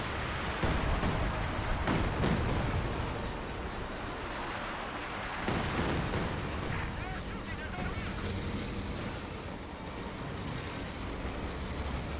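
A Katyusha rocket barrage in the video game Company of Heroes 2 rolls out as a dense, continuous rumble of launches and explosions, loud and sustained for many seconds with overlapping booms and no talk.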